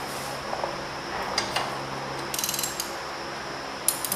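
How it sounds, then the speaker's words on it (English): A ratchet with a 9/16 socket works on the engine head bolts of a 1971 John Deere 140 H3 garden tractor, giving short bursts of rapid clicking over a low background hum, close by. "Grab a 9/16 socket. Let's go on ahead and pop off this head."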